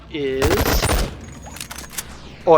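Rapid automatic fire from a two-handed ranged weapon in a video game, a quick burst of shots around the middle of the clip, with a voice speaking before the burst.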